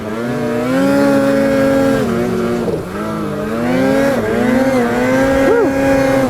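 A 2022 Polaris Patriot Boost Pro RMK 165 snowmobile engine revs loud and close, rising and falling in pitch as it accelerates under boost, with a brief dip before climbing again.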